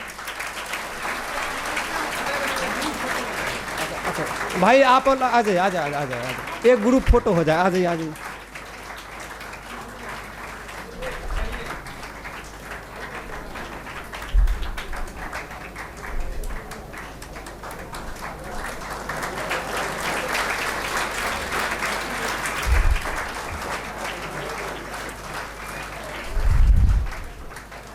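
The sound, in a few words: audience applause at a seminar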